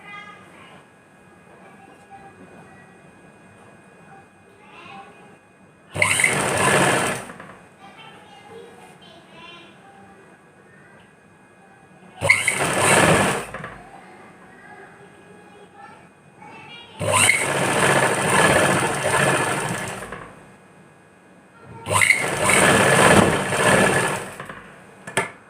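A sewing machine stitching a suit runs in four loud bursts, about one to five seconds each, separated by quiet pauses. There is no talking.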